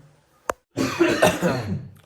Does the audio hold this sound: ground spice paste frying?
no